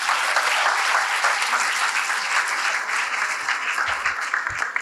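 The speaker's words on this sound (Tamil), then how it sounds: "நன்றுமா, கைத்தட்டுங்க எல்லாருமே." A school audience applauds steadily and loudly, a dense wash of many hands clapping at once that holds throughout without pause, with no talk over it.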